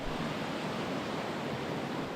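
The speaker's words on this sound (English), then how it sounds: "The obvious first step to getting a ship into the dry dock is flooding the dock." Water rushing steadily into a dry dock as it floods, a dense, even roar with no pauses or distinct splashes, moderately loud and unbroken throughout.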